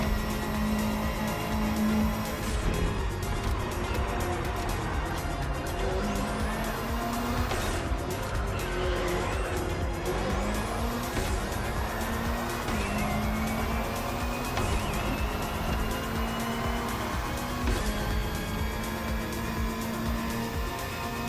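Touring race cars in The Crew Motorfest roar steadily around the track, engines droning with shifting pitch as several cars pass and gears change, continuous and fairly close with no talk over it.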